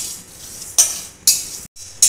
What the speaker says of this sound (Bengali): মশলাটা আমি ভেজে নেব